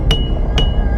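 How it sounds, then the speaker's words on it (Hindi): A hammer strikes twice at an even pace, sharp ringing metallic knocks, loud and close with nothing else heard, in a horror setting of nails driven outside a house at night. "पर कल रात हमें घर के बाहर से हथौड़े की आवाज आ रही थी"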